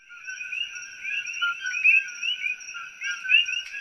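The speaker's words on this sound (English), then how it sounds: "we're going to focus on koki frogs" Invasive coqui frogs call on Maui, a dense chorus of continuous, overlapping high chirps carrying steadily through the night air with no voices.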